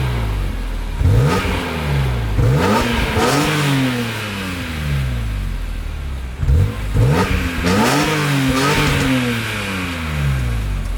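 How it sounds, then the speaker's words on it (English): A BMW E46 M3 engine is revved repeatedly in a series of sharp rising bursts that fall back to idle, loud and close with a stock exhaust, no voices over it. "let's do some revs and see what this baby sounds like"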